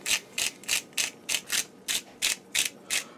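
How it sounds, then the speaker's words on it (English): Whole coriander seeds ground in a salt grinder, about ten evenly spaced crunchy ratcheting twists, close and fairly quiet, with no talking. "I just put the coriander in there. And I'm just going to grind that in there."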